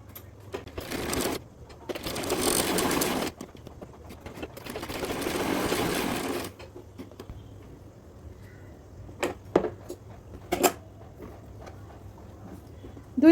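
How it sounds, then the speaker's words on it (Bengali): Sewing machine stitching the side seams of a salwar waistband, running in two long loud bursts, then a string of short separate taps and clicks, fairly close. "তো এখন আমি কোমর ব্যান্ডের এই সাইডও জোড়া দিয়ে সেলাই করে নেব।"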